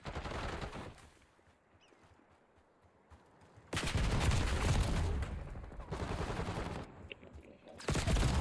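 Gunfire in the online shooter Call of Duty: Black Ops 6, with bursts of shots and loud blasts in two spells separated by a quieter stretch of game ambience.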